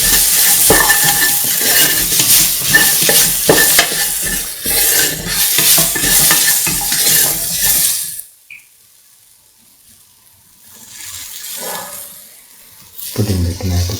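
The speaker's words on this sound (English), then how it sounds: "Mix the salt into the texture thoroughly." Spoon stirring salt through a duck, coconut milk and rice mixture in a pan, a busy scraping and sizzling texture for about eight seconds, then near silence before a brief final burst of stirring.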